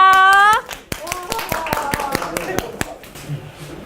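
A sung or spoken tone gives way to a burst of hand clapping, quick irregular claps from a small group, with a voice briefly heard near the end.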